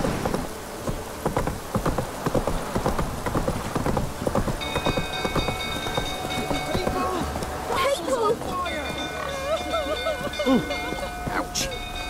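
In The Witcher 3, the horse Roach gallops with a quick clip-clop of hooves under rain and thunder, while voices and game sounds come in over it.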